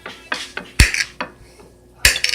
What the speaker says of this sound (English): that's the tomato chopping